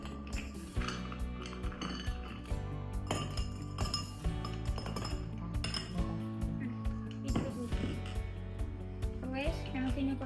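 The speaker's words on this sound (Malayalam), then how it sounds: "അപ്പൊ നമുക്ക് കുറച്ച് ഐസ് ക്യൂബ് ഇടാം" Ice cubes dropped into a glass of frothy cold coffee, several bright clinks and knocks against glass scattered through the stretch, with a voice talking over them.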